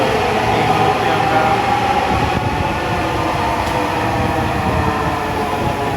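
A metro train at Agargaon station platform in Dhaka gives off a steady, loud rumbling roar with a constant hiss, continuous for the whole stretch with no distinct breaks.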